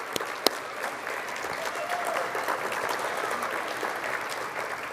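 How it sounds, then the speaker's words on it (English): Guests at a scholarship awards dinner applaud educators, a sustained and moderately distant round of clapping from a roomful of people with a few louder claps near the start. "So if you could please give a round of applause to all the educators and Colleen."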